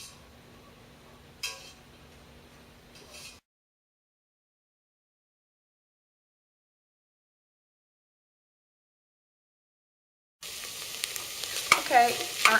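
Onions and peppers sauté in a pan, sizzling softly with a stir and scrape early on, then a long silent gap before a louder burst of sizzling with clinks of a utensil against the pan.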